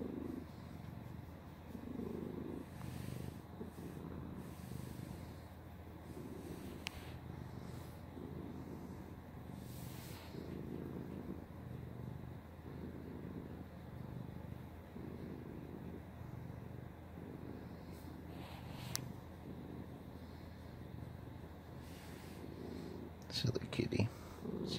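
A cat purrs steadily while being scratched, a soft close rhythmic rumble of repeated pulses, with someone speaking quietly over it.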